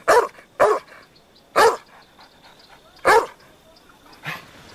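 A dog barks five times, each bark sharp, loud and close, spaced about a second apart over a quiet background.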